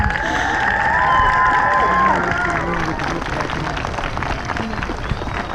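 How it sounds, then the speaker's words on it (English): A crowd at a nativity show breaks into applause and cheering, a steady wash of clapping with shouts and children's voices mixed in, full and close throughout, with a sustained high tone drifting through the first couple of seconds. "we can give them a bigger round of applause"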